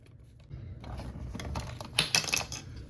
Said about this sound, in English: So now we can reach under and pull the pump out.